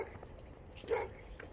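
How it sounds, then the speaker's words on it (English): A dog named Shilo gives one brief, sharp yelp close by, rising out of a quiet background before falling back to near silence. "Shilo's all yelping."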